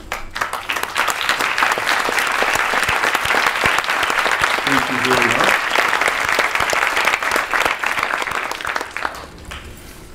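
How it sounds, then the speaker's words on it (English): Sustained, dense applause fills a room at a science center groundbreaking ceremony for Muskegon Community College, loud and continuous for most of the stretch before tapering off as a voice speaks briefly. "accept a round of applause"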